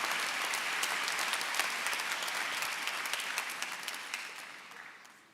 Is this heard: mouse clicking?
no